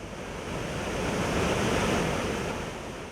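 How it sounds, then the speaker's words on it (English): A steady, loud rush of falling water from a waterfall in Nyungwe forest, Rwanda, swelling slightly in the middle, with no voices. "this waterfall was discovered in 2018 by the rangers"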